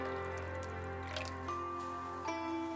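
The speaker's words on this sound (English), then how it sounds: "I'm going to go ahead and pre-wet the paper and heat the cup up." Hot water near 205 degrees poured to pre-wet a paper pour-over coffee filter and warm the cup; a soft, continuous trickle and drip with a rising filling tone, close and quiet, with no talk.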